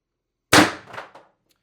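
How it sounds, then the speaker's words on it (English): Single sharp shot from an X-68 launcher firing a 7.3 g aluminum projectile, a loud close crack followed by a short rattling decay and a faint second tap, alone with no voices. "I'm going to keep shooting."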